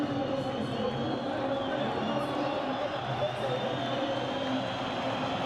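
Stadium crowd at a Portugal versus Egypt football match applauding as Mohamed Salah is substituted off, a steady, dense roar of clapping and noise filling the whole stretch at constant loudness.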